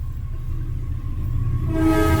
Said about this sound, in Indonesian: ada kereta lewat